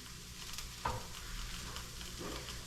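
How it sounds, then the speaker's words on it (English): Garlic added to sweated onions in a pan for a red beet risotto, a soft steady sizzle up close with a sharp clack partway through and a brief stirring scrape later. "I'm gonna put my garlic in"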